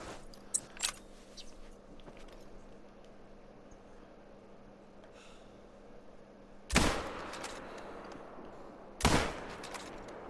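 Two sharp, loud rifle shots from a .270 hunting rifle in a hunting video game, a few seconds apart, each ringing out with a short decaying tail over a quiet outdoor background.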